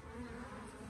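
A dense, steady buzz of many honeybees humming together close by at an apiary hive in the evening, low and continuous without pause.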